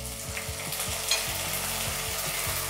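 Ginger garlic paste sizzles steadily in a pan after fried onions, a dense crackling hiss with regular stirring scrapes of a spoon against the pan, fairly quiet and with no speech.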